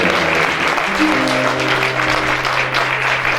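Concert audience at an aşık folk minstrel show in Kartal breaks into dense, steady applause lasting throughout, with a faint sustained tone beneath the clapping.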